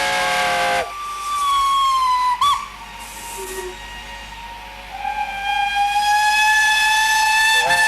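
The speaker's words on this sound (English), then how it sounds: "the engines lined up for their parade, they hooted" Steam locomotive whistles hoot in long sustained tones at a 1975 steam parade in Shildon, one breaking off early before others sound together, with a brief hiss of steam between.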